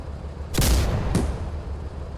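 Two heavy tank gun blasts in a video game boom in quick succession, the first longer and rumbling, the second sharper, over a constant low background hum.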